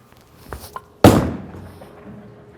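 A bowling ball slams into the pins with one sharp crash at a bowling alley, the clatter fading quickly; a couple of softer knocks come before it.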